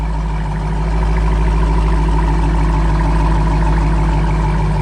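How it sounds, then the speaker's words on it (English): Dodge Challenger R/T with its active exhaust deleted, idling at a steady, loud, close low rumble throughout with no talk. "With that active exhaust on, you're gonna hear this every time."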